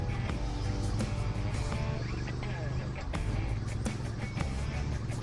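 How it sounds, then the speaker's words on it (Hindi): A Triumph Speed Twin 900 twin-cylinder motorcycle of 900 cc on a test ride, its exhaust a loud continuous throbbing drone under a voice, engine note rising and falling slightly. "इसकी साइलेंसर की आवाज इतनी अमेजिंग है कि मैं बता नहीं पा रहा हूं।"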